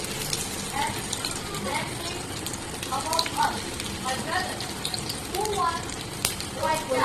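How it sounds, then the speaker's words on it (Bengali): Rolls sizzle in oil in a frying pan over low-to-medium gas, a steady crackling fry running throughout while a person talks over it. "যেরকম মাছ ফ্রাই করেন গাইস এরকম আমি তেল দিয়ে এটা ফ্রাই করে নেব"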